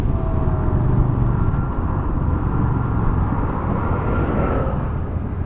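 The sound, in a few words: Royal Enfield Super Meteor 650 motorcycle exhaust on test ride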